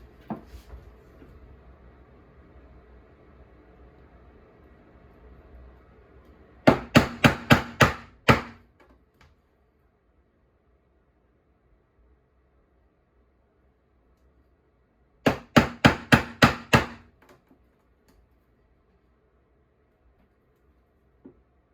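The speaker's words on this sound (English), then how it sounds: "Then I've got a 3/4 inch chisel." A 3/4-inch chisel struck repeatedly while cutting leather whip falls, two quick bursts of about five sharp, close taps each, separated by quiet, with a low hum at the start.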